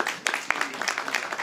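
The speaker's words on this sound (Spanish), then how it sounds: "Con este fuerte aplauso agradecemos el saludo de la primera dama." An audience applauds at a ceremony for International Women's Day in Chile. The clapping is moderate and somewhat distant, with sharp individual claps standing out in a continuous patter.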